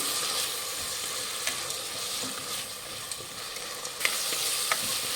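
Two chopped tomatoes stir-frying in a pan for akki usli, a South Indian rice dish. A steady, dense sizzle runs throughout, with occasional scrapes and taps of a spoon against the pan.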